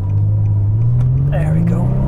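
A Nissan G37 pulls away from a stop sign, its engine note climbing steadily and loud from inside the cabin while a voice speaks briefly over it.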